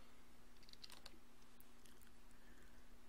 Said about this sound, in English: now let's press 7 on the keyboard